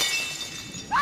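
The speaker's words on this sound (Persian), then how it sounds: "صدای جیغ اومد، شیشه شکستن و اینا" Glass shattering at night in a neighbour's home, heard as a harsh, broad crash over steady background hiss, with a sharper burst rising at the very end.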